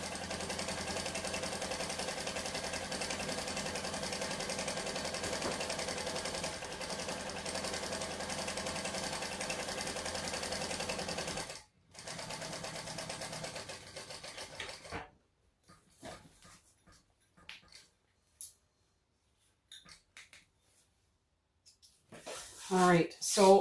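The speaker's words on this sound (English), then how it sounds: "doing straightaways like this down my strap, give my machine a little bit of a workout." A home sewing machine runs fast and steady for long straight seams down a fabric bag strap, a continuous mechanical whir that cuts off abruptly, restarts briefly, then gives way to quiet handling noises.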